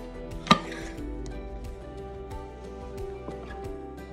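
Apple cinnamon monkey bread drops out of a greased bundt pan onto a plate with a single soft, dull thud, followed by a quiet room with faint small clicks.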